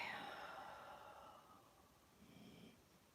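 Faint, heavy breathing from a dog, a soft snorting snore that fades, followed by another quiet breath.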